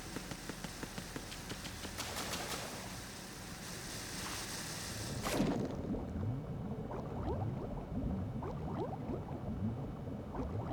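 Water churns and sloshes as a character moves through a flooded area in Metal Gear Solid 2, with a low engine-like rumble underneath, a burst of splashing midway, then softer rippling swishes.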